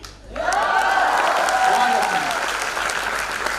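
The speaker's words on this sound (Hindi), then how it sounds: "ये हॉल तालियों से गूंज जाना चाहिए।" An audience fills an Indore hall at a recognition program with sustained, loud applause that swells quickly after a brief quiet start, with a voice or music carrying over the clapping.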